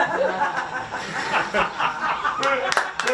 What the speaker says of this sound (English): Don't clap him, it only encourages him.